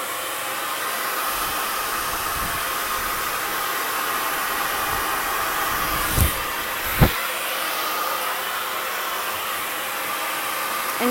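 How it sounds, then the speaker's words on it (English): Hair dryer blowing steadily while hair is blow-dried forward with a flat brush, a loud continuous whooshing drone with a couple of brief bumps, no talking. "Now I'm going to take this second layer with my flat brush here and blow dry this all forward."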